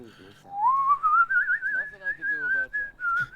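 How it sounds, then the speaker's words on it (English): A video game character whistles a sliding, wavering melody in The Outer Worlds, rising at first and then holding steady with small trills, fairly close and clear with no talking. "He's whistling."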